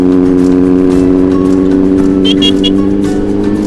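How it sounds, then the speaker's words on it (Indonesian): A big motorbike engine rumbles steadily and loudly at close range while riding over a rough, bumpy road, with a brief higher squeak or rattle near the end. "pembuktian apakah Moge bisa lewat jalan jelek pemirsa"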